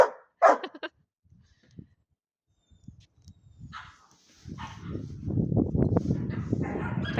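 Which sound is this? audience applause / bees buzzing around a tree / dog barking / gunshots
dog barking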